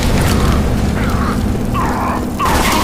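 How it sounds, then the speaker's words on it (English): A Molotov cocktail bursts into flame in Left 4 Dead 2 during an underground level of The Passing campaign, a loud booming rush of fire that roars continuously under the game noise. "Molotov coming!"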